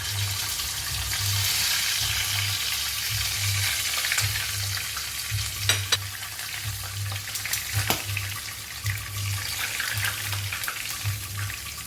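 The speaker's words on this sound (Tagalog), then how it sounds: "So I will cook first the garlic." Garlic sizzles in a frying pan with a steady hiss and occasional scrapes and clinks as it is stirred, while music plays underneath.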